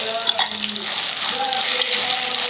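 Ground green pea paste hits hot oil for a kochuri filling, giving a bright, steady frying hiss with faint bubbling and a few soft clinks, continuous and close throughout.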